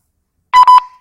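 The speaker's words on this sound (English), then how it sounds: "Press mode until you hear a beep." Walkie-talkie beep after pressing the mode button, one brief close electronic tone with a quick double pulse, sharp and clear against silence.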